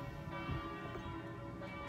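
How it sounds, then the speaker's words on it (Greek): Church bells ringing in Burano near Venice, a steady resonant tolling that carries through the whole moment at moderate distance over outdoor ambience. "Ακούς τις καμπάνες."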